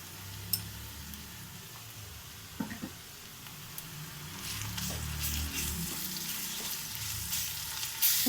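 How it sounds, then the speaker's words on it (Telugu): Ginger garlic paste sizzles in hot oil in a pan for egg curry, a soft steady frying crackle with occasional stirring clicks and scrapes, close and fairly quiet. "ఇప్పుడు అల్లం వెల్లుల్లి పేస్ట్ వేసుకుందామండి."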